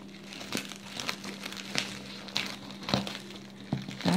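Plastic packaging film wrapped around a school orthopedic backpack crinkles in close, irregular bursts of rustling with a few sharper crackles, heard alone without talk.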